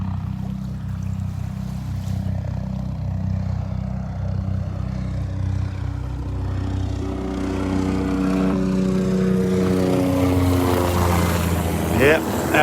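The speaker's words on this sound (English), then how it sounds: "Chopper heading right at us here." A helicopter over the beach at Delnor-Wiggins, its low rotor throb steadily growing louder as it closes in overhead, with a rising whine near the end and someone talking over it.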